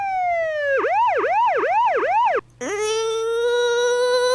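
Ambulance siren wailing loud and close, first in a rapid rising-and-falling yelp cycle, then after a brief gap switching to a long sustained tone, with no voices over it.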